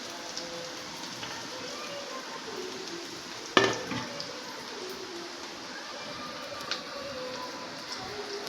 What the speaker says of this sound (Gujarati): આપણે એવી રીતે ફરીથી બીજા પકોડા પણ તળી લઈએ